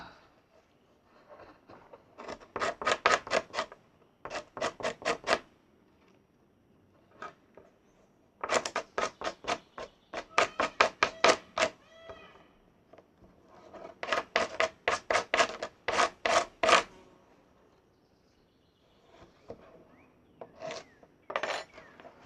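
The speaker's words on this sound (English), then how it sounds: "I think that's scraped enough." Rabbit leather being scraped by hand, heard as bursts of rapid, rhythmic rasping strokes in several runs with short pauses between, close and fairly loud.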